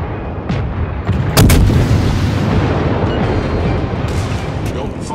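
Warship naval guns firing in the World of Warships game, a heavy booming blast followed by rumbling roar and a couple of fainter distant shots, with a voice talking over it.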